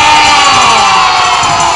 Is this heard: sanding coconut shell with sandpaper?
no